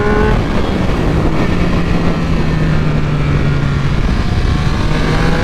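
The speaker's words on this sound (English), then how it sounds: "man, this bike really likes to accelerate" A 2022 Triumph Speed Triple 1200 with an ECU flash tune accelerates on a road, a loud continuous engine roar with rising tone mixed with steady wind rush, close and without pauses.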